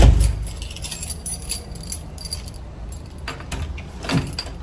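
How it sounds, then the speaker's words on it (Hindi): A bunch of car keys jangles as it is picked up, a bright metallic clatter at the start and again near the end, with light handling rustle between, close and fairly loud. "मैं इरफान की गाड़ी की चाबी उठा रही हूँ।"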